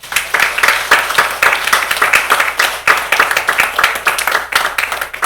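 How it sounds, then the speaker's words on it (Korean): A church congregation claps together in rapid, continuous rhythmic applause that stays loud and steady all the way through, with no speech on top. "이 정귀한 이름을 주신 하나님 아버지께 영광의 박수 한번 보내드립니다."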